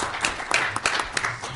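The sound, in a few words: audience applause for a panel discussion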